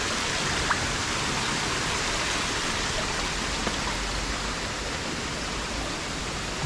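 A waterfall and stream in Munnar pour in a steady, loud, broadband rush of falling water with no pauses or voices.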